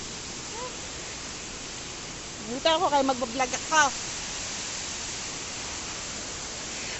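Steady broadband rush of Nagsipit Falls in Barangay Lagadian, Kasiguran, Sorsogon, a constant even roar filling the scene, with someone briefly speaking over it midway.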